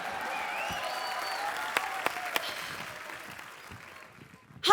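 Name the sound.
studio audience clapping on comedy show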